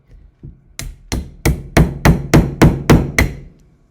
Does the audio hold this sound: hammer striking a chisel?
yes